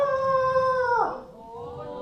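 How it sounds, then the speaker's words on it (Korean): A chicken call played as a recording during a children's animal-sound guessing game at a church: one long, loud, sustained harmonic cry that bends downward and fades, with faint voices in the background. "닭이에요. 닭."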